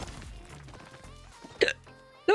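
A character in the video game Palia hiccups twice, short sharp yelps with a gap between them, following some quieter game sounds.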